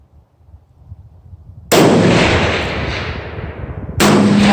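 A 7mm Remington Magnum rifle fires on an outdoor range, two sharp, loud, close reports with long decaying echoes rolling out after each, preceded by faint low background rumble.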